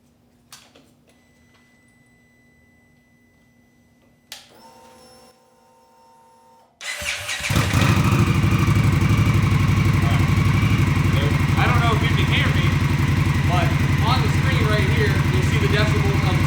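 A 2023 Indian Scout Bobber engine with stock exhaust fires up after a few quiet clicks and settles into a loud, steady, rumbling idle that continues to the end.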